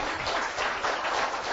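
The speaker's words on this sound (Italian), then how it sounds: "se è brava fategli un applauso" Audience at a cycling event gives a short burst of steady applause, a dense continuous patter of clapping with no voices over it.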